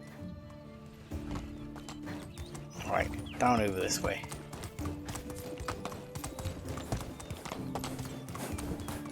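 Horse hooves from riding in the game Medieval Dynasty, a steady, moderately loud clip-clop running throughout, with a brief burst of speech from a man near the middle.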